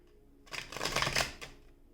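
A new Elemental Goddess Tarot deck is riffled in one quick burst of crisp card flutter lasting about a second, close and clear against a quiet room.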